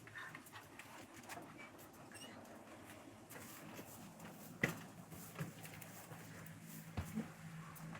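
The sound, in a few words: puppy dog panting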